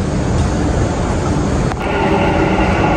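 A Dubai metro train bound for Expo 2020 pulls into the station, a loud, steady rumble and rush of wheels and air that holds for the whole stretch, with a brief click near the middle.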